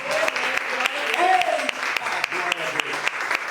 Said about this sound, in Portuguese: aplaudem o Senhor nosso Deus, irmão